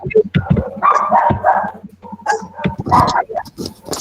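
A dog barks and yips repeatedly in short bursts, mixed with voices talking over it.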